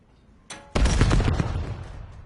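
Submachine gun fire in Black Ops 7, a sharp burst of rapid rounds opening after a brief click, loud and dense, then trailing off into the game's ambient noise.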